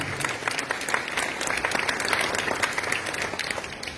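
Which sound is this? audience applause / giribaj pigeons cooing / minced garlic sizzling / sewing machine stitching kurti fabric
audience applause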